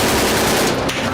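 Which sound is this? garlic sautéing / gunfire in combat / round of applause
gunfire in combat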